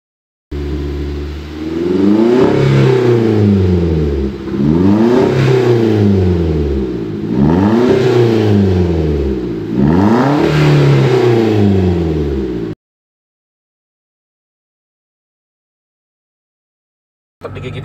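Older Toyota Avanza engine after an engine flush, revved four times in a row, each rise and fall sweeping up and back down, loud and close, then silence.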